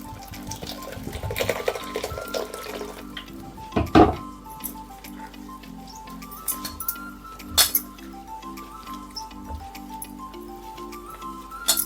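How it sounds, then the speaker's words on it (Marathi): Wild monsoon vegetable flower clusters (gabholi) being rinsed by hand in a bowl of water: close, soft sloshing and dripping with light clinks against the bowl, a few sharper splashes standing out. "असे हलक्या हाताने धुवून घ्यायचे"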